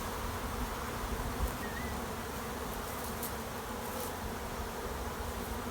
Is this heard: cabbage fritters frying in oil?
no